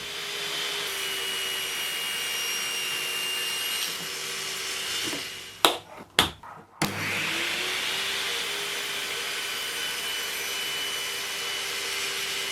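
A saw cuts pieces of wood held in a rough jig, with a steady whirring drone that drops out briefly in the middle with a few sharp knocks before resuming.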